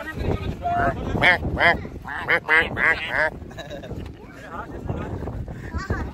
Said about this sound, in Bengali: এই হচ্ছে নোনা জলে হাঁসের ডাক